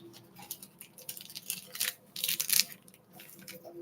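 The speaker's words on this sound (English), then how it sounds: "Cutting it open with the scissors." Scissors snipping open a small lip cream package, with a few short close crisp cuts and rustles of thin plastic coming in quick uneven bursts, no talking.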